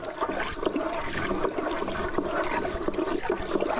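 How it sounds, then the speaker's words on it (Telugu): Water is stirred and sloshed in a container while preparing a bael leaf decoction with added powder, giving a continuous churning, swirling wash close to the microphone, with no talking. "ఈ నీటిని బాగా కలియనివ్వాలి."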